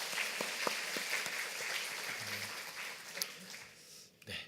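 A church congregation applauds during a Korean overseas mission report service, a steady wash of clapping at moderate distance with a few sharper individual claps, easing off near the end.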